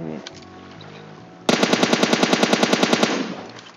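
Automatic gunfire in the video game PUBG Mobile, a rapid, evenly spaced burst of about fifteen loud, close shots lasting around a second and a half, with softer game sounds before and after.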